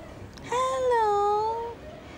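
A pet cat gives a single drawn-out, rising-and-falling meow, close and clear, on a rainy day during a typhoon.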